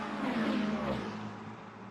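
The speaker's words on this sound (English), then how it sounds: "As you can hear the engines roaring of these cars." Race car engines roar in the Le Mans Ultimate sim racing game at Monza, a steady loud drone of several cars in a pack that peaks near the start and eases slightly, with no talk over it.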